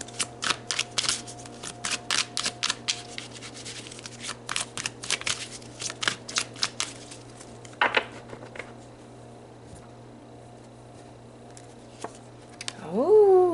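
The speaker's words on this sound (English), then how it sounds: "So let's pull you an oracle card." A deck of oracle cards shuffled by hand, a run of quick papery riffles and flicks in uneven bursts, close and crisp, tapering off into a quiet room before a voice starts at the very end.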